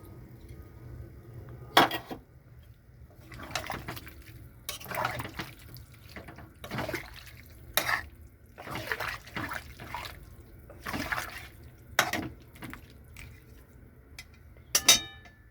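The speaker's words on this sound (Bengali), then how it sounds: "এখানে দিয়ে দিচ্ছি জল পরিমাণ মতো" Water being poured into chilli chicken gravy in a pan, heard as intermittent splashing and dripping bursts with light clinks of utensils against the pan, close and moderately loud, with no talking.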